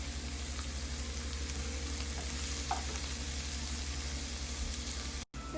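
Onions and spices with cumin fry in a pan for an artichoke curry, a steady close sizzle with a few small pops and a brief dropout near the end.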